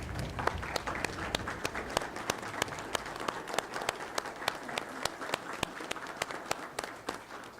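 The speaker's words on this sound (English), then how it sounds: "could we give a standing round of applause to all the council members?" A council meeting crowd gives council members a standing round of applause, a fairly faint, continuous patter of many hands clapping with sharp individual claps standing out throughout.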